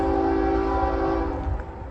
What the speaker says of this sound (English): got another train coming through here